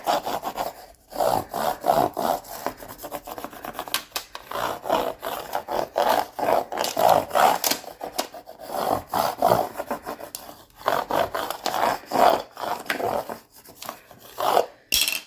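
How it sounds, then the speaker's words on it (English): A scraper tool is rubbed firmly back and forth over vinyl transfer tape on a sign, giving loud close rhythmic scraping strokes with brief pauses between passes. "take your scraper tool, smooth it down nice and flat all over"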